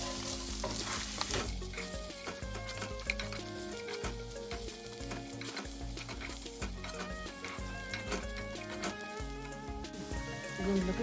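Gongura paste and cashews sizzle and crackle steadily in a hot pan for gongura paneer fried rice, a loud, continuous frying hiss with occasional stirring scrapes and no talking.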